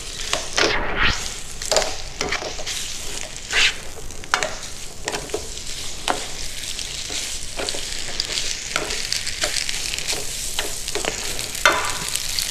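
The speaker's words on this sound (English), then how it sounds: "Put some olive oil in there, and since this is our sauce, you can be a little generous with it. We'll go ahead and just mix all this together" Pasta sauce sizzling in olive oil in a pan while being stirred, a steady loud fry with repeated scraping strokes of the utensil throughout, close up and with no talking.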